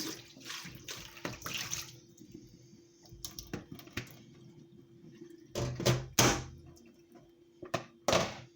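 Tap water runs over a kitchen strainer and bowl being rinsed while making fruit juice, with intermittent close splashing and gushing bursts broken by hollow clunks and knocks of the utensils, growing louder toward the end.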